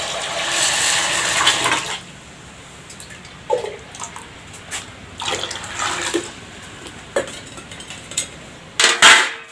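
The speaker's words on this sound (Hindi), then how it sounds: "गर्म पानी इधर डाल रहे हैं" Hot water poured from a vessel in a rural Chhattisgarh home, a splashing pour for about two seconds, then scattered clinks and small splashes, and a final short burst near the end.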